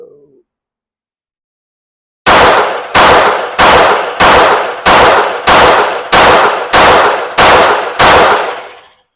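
Ten sharp 9mm pistol shots fired at target practice, spaced evenly about 0.7 seconds apart, loud and close with short ringing decays, after a brief moment of silence.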